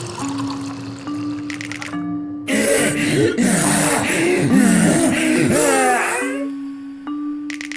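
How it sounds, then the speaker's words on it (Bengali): Water is poured onto a skeleton in a Bengali ghost tale: a loud, splashing pour of a few seconds rises over eerie moaning and a low sustained musical drone, then cuts back to the drone alone. "ভস্য কঙ্কালে সৌরভ মন্ত্রপুত জলটা ঢেলে দেয়"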